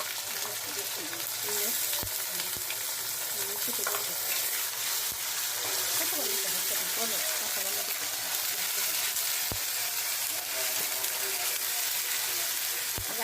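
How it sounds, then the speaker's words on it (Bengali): Whole spices such as cinnamon and cardamom frying in oil with garlic and ginger for chicken biryani, a continuous close sizzle with occasional stirring clicks against the pot, and a voice talking over it now and then. "আদা রসুন একটু বাজা বাজা হোক"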